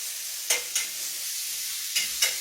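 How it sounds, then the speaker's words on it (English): Small pieces of bacon sizzle steadily in a pan, a constant close crackling hiss punctuated by a few soft taps of a utensil. "Let's let that cook now. There's our little bacon."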